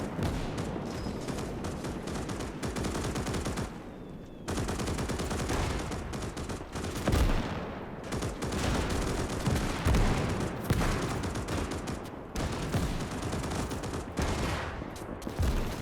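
Dense, loud battlefield gunfire with heavy booms of mortar and artillery fire landing close during an infantry-versus-mech fight in a 1920+ alternate-history war game, a continuous rumbling barrage with repeated bursts and impacts.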